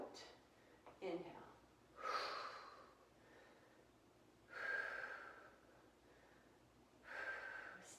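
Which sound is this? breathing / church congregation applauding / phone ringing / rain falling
breathing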